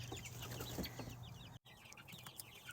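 Baby chicks being raised at home peep in soft, repeated high chirps close by but faint, with a brief dropout partway through and a low background hum.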